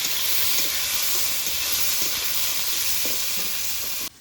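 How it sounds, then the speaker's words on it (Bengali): Chopped onion with salt frying in hot oil, a steady close sizzle and hiss with light stirring scrapes throughout, cutting off abruptly at the end. "পেঁয়াজটাকে এখন নেড়ে চেড়ে হালকা লাল লাল করে ভেজে নেব"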